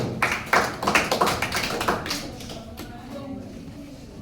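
Classroom of students clapping for a classmate's Class 10 chemistry exam result, a burst of close hand claps that peaks early and then thins out into scattered claps and faint murmur.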